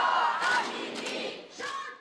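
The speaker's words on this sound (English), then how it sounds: "Armed with Iranian flags, protesters chanted Masha Amini's name" Protesters outside the Iranian embassy in Vienna chant Masha Amini's name, a crowd of voices shouting in loud, rising-and-falling bursts.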